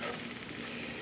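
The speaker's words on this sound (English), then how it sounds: "you hear that sizzle, so you hear the heat" Lobster sizzles and spits steadily in a hot skillet, a close, continuous frying crackle with no voices.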